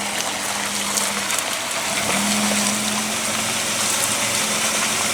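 A Jeep drives off across grass right after a transmission repair, its engine a steady, rough drone with a rising hum partway through and no talk.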